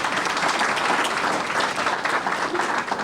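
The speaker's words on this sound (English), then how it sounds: "Why are you applauding?" Board of education meeting audience applauding a staff member, dense steady clapping from many hands throughout, loud and close, with a faint murmur of voices underneath.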